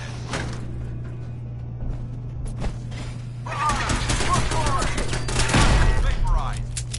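Turret gunfire in Fallout 4 on PS5 erupts in bursts over a steady low game hum, with rapid volleys growing denser and louder in the second half.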